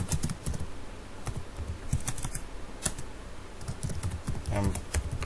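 Computer keyboard keys clatter in irregular, closely spaced taps as an SQL query is typed, near and moderately loud with short pauses between bursts.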